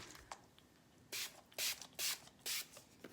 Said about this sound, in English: To finish off, I think I'm gonna do a little bit of spray on my face.